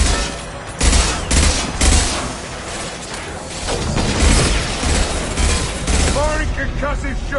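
Rapid bursts of gunfire in the video game Mass Effect 2, loud repeated shots and clattering blasts over several seconds, with a voice heard briefly amid the shooting.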